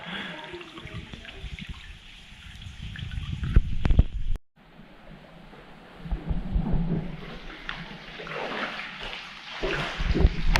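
Kids swimming in cold water in a gorge at Karijini National Park, with close splashing and sloshing, a sudden cut into quieter flowing water, then splashing building again.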